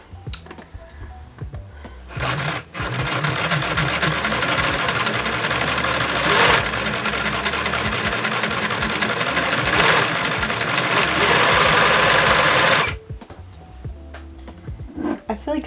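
A sewing machine runs steadily and loudly for about ten seconds, at close range, with brief pauses near the middle, during an art student's sewing project at home; quieter handling sounds come before and after.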